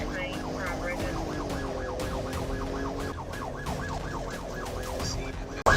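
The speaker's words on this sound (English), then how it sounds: "he activated his lights and siren and attempted a traffic stop." An Arkansas police car siren wails in rapid, repeating rising-and-falling sweeps during a traffic stop, loud and close over road noise and engine rumble, with faint radio chatter underneath.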